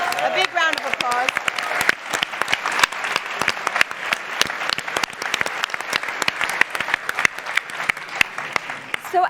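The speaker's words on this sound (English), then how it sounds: "A big round of applause." Audience applause at the Falling Walls 2019 joint award ceremony, sustained crisp clapping from a hall full of people with a few voices rising briefly near the start.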